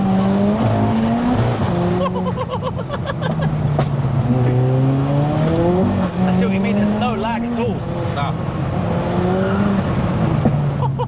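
A 515 bhp big-turbo MK5 Golf GTI engine revs hard with tires spinning and squealing, loud and close, while people talk and laugh over it.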